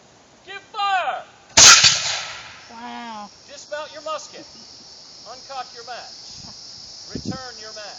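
A matchlock musket fires once with a sharp, loud broadband crack during a drill, while voices talk before and after the shot.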